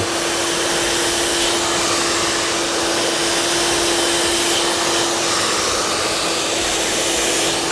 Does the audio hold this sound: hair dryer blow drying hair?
yes